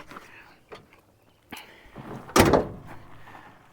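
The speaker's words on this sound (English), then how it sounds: "did you see how good that door closed?" A classic Ford Mustang Mach 1 car door closing with one solid, heavy thunk, preceded by faint clicks and handling noises, close to the listener.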